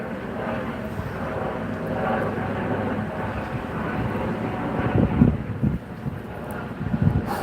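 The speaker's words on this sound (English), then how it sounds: "Ooh, that wind is cold." Wind gusting over the microphone during a midday bike ride on an old Schwinn in Las Vegas, a steady blustery rumble with heavier buffeting toward the end.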